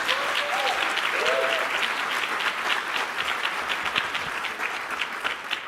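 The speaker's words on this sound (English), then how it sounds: "So let's give that a very warm round of applause" A warm round of applause from the audience at a book launch, dense and sustained clapping close by, with a few faint voices beneath it.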